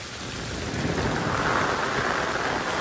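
Heavy unseasonal rain pours down in the Konkan with a dense, steady hiss and patter that fills everything and stays loud throughout, with no voices.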